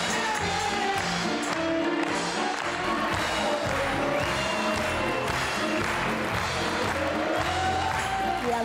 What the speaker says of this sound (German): die haben ganz doll geklatscht